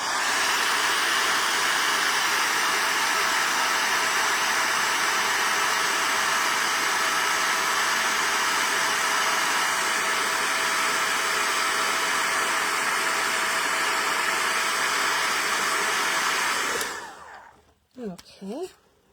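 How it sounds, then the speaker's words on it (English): Heat gun blowing over gold embossing powder on a card: a loud, steady, close whoosh of hot air that runs unbroken for about seventeen seconds, then cuts off, followed by a few quiet handling sounds. "let's heat that up"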